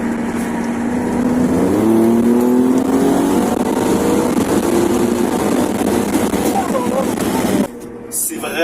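Alfa Romeo Stelvio Quadrifoglio, a 510 hp SUV with an Akrapovic exhaust and its valve open, revving loudly and steadily with rising engine tones, heard from inside through an open window, then cutting off abruptly near the end.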